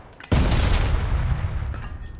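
A Panzerfaust fires in a video game, one sudden loud boom that rolls into a long, rumbling low tail fading over about two seconds.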